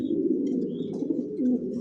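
A Johnson-line red checker racing pigeon nesting on eggs in a loft gives a low, continuous close cooing with soft throaty rises and falls, no talking.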